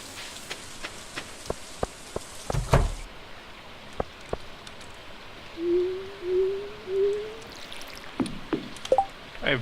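Steady rain falling in the Stardew Valley video game, a soft continuous patter, with a few sharp clicks and taps and a low rising tone drifting over it; no talking.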